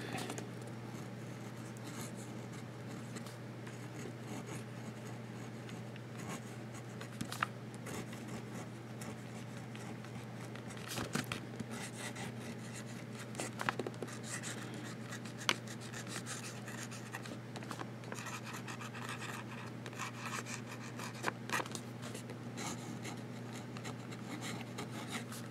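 A vintage Sheaffer fountain pen nib writes on paper, making faint, continuous scratchy strokes and loops over a steady low background hum, with a few soft taps and no talking.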